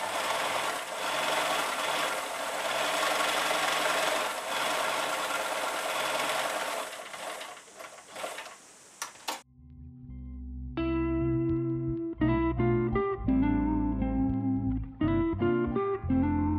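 A sewing machine stitches a rice-filled heat pack, its motor running in short rhythmic bursts that start and stop, close and alone after a stretch of broadband rustling.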